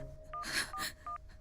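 Telephone keypad tones sound as a number is dialed, several short beeping DTMF tones in an irregular sequence, close and clear, with no talking.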